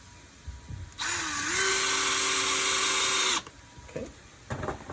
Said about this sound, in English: And we'll drive the screw in.